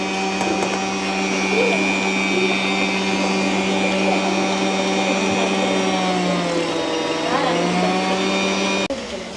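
An electric hand mixer whirs steadily, beating eggs into cake batter in a village kitchen, a loud continuous motor drone with slight pitch shifts that stops abruptly near the end.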